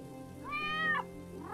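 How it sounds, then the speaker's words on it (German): A cat in the game Beholder gives a single clear, rising-then-falling meow, close and fairly loud over a quiet background hum, with no speech. "Guck mal, wir haben eine kleine Miezekatze."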